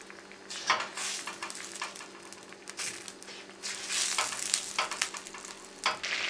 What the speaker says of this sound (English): Heat 1 teaspoon of oil and 1 tablespoon of butter in a kadhai or a wok. Add a teaspoon of cumin seeds.